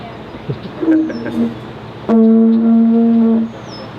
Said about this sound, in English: that was my failed attempt at playing the didgeridoo